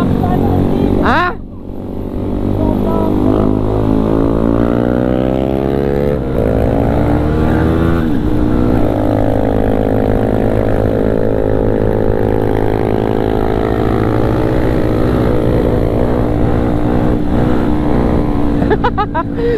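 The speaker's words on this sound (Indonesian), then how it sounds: "Motornya gak kuat nanjak anjir." A motorcycle engine drones loudly and continuously close by during a night ride on a Bandung to Garut route, labouring uphill as the bike strains against the climb, wind rushing over it and a voice speaking briefly.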